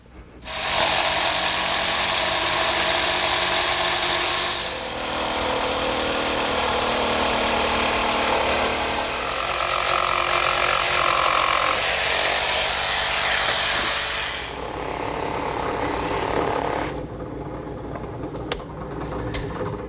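A biscuit joiner cutting into wood at a 45-degree cut whines loudly for about fifteen seconds with a slight dip midway, then winds down, leaving faint clicks and quiet.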